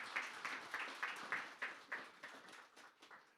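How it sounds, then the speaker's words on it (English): A small audience claps at a fintech community talk, a dense patter of hands with slightly rhythmic accents, fairly close, gradually tapering off over a few seconds with no voices. "Clap it up."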